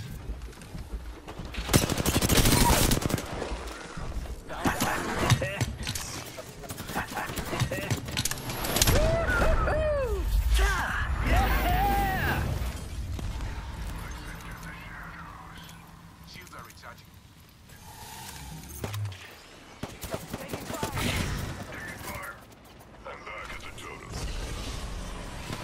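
Bursts of Apex Legends gunfire crackle through a busy in-game firefight, with rapid volleys and mechanical clatter over a constant background mix, while a player talks throughout.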